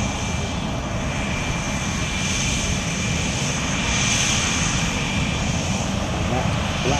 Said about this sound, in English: she's now the oldest complete Vulcan in the world, as well as the only one that's flying